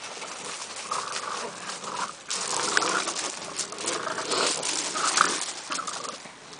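Pit bull puppies play and whimper close by, with high, thin whines and yelps rising and falling over a continuous scuffling background.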